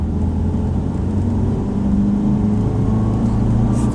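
A Mitsubishi Pajero Junior 4x4 on the move, its engine giving a steady, close droning hum with a low rumble that holds level throughout, without any talk.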